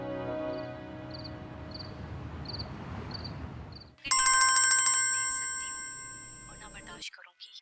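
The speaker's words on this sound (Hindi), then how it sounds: "फोन क्यों नहीं उठा रही?" A repeated electronic ringtone beeps in a steady pattern over background chatter, then a louder, brighter ringing tone sounds before stopping abruptly.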